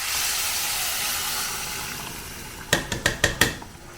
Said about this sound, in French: Je vais venir mélanger un petit peu mon bouillon qui est juste là.